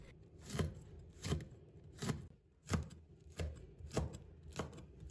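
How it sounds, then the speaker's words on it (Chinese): A knife chops small red chili peppers into rings on a board, with six crisp, evenly spaced cuts at a slow, steady rhythm and close, clear impacts. "再准备几个小米椒，先把它头切掉，然后切成小圈。"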